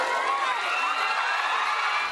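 Crowd of BTS Army fans cheering and shouting for Jimin and Jungkook, K-pop members just released from South Korean military service, a dense, steady roar of many high voices holding at one level throughout.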